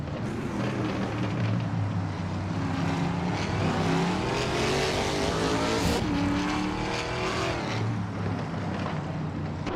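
Race cars battle in a racing video game, a dense, loud roar of several engines overlapping continuously, pitches rising and falling as the cars jostle for position.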